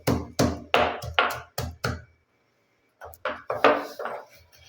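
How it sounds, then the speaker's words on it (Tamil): A grinding stone pounds roasted gram into a dry powder, giving about six sharp, close thuds in a steady rhythm, then a short pause before another burst of four or five strikes. "இப்போ நான் வந்து இந்த கல்லையே வந்து பவுட்ரு பண்ண போகிறேன்."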